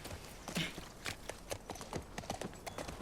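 Horse hooves clip-clopping at a steady walking gait in The Last of Us Part 2, a run of distinct hoof strikes, moderately close and fairly quiet, with faint ambient game sound behind and no talking.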